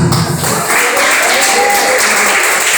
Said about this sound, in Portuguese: Palmas para Jesus.